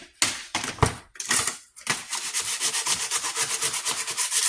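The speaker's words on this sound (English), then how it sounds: "I'm sanding that." Hand-sanding the chrome front grille of a Lincoln Town Car, starting with a few separate rough scrapes and settling into fast, steady back-and-forth rubbing strokes, close and fairly loud.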